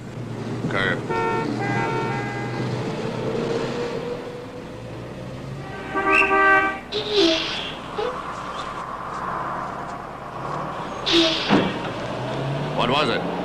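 A bus passing on a city street, heard as a rumbling engine drone with loud horn-like tones and hissing bursts against traffic noise, with people talking nearby.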